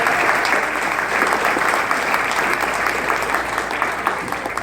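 Audience applause at an event, steady dense clapping from a crowd that holds loud and even throughout without a break.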